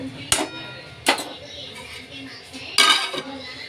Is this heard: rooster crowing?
no